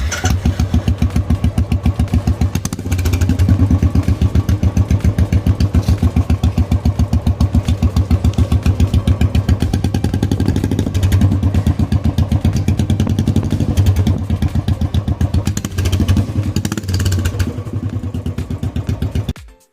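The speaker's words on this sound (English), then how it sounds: "Now listen to sound without muffler. Sound is so fantastic." A Royal Enfield Classic 350 motorcycle with an aftermarket exhaust and no muffler idles loudly and steadily up close, its open exhaust thumping in a fast, even beat with a raw, unmuffled rasp.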